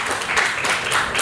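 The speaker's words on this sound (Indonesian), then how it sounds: "Kasih tepuk tangan Bapak Ibu." Wedding guests at a holy matrimony ceremony applaud, a dense steady patter of many hands clapping close by for a brief moment.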